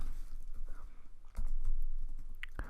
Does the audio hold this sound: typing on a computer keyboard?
yes